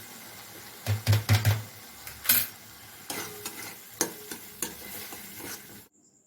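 Chhana curry cooked with butter and kasuri methi bubbles in a pan, with a few clattering stirs and scrapes up front, then softer sizzle and occasional utensil knocks close by, no voices.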